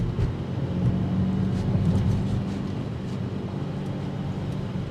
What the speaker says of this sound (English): Exhaust is a little bit louder than the M60i.